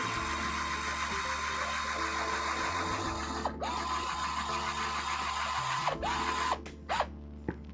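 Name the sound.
screws being driven into 3D-printed plastic RC truck parts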